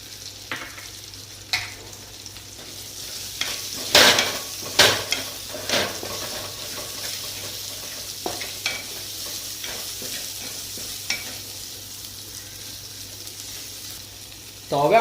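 Onions frying in a pan with asafoetida and ginger-chili paste for rasawala khaman, a steady close sizzle broken by several sharp scraping stirs and spoon clinks, with no one talking.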